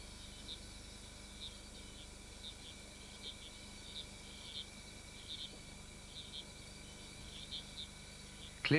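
Crickets chirp softly in the wild, with faint, evenly spaced trills over a quiet background and a short sharp rustle right at the end.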